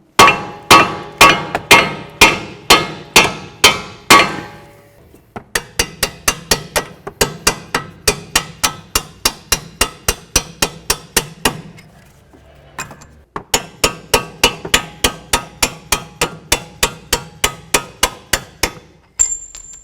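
Hammer bonking a front strut loose from the steering knuckle on a 2008-12 Chevy Malibu: a long series of sharp, ringing metallic strikes in quick rhythmic bursts with brief pauses between, loud and close.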